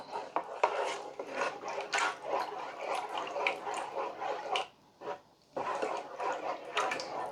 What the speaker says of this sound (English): Now, we got to give it a good stir.